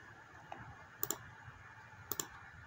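Computer mouse clicks in a quiet room while working in Adobe Illustrator: a faint single click, then two crisp double clicks about a second apart.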